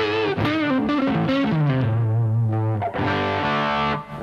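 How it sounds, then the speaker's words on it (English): Heavily distorted electric guitar playing sustained, overdriven chords and bent notes, loud and continuous with no voices. "with a little bit more dirt or distortion on it"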